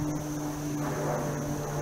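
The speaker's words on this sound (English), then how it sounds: "Looks like a propeller plane, so no spray lines there." A steady propeller plane drones overhead in the sky over Asheville, North Carolina, an even humming buzz that holds at the same level throughout.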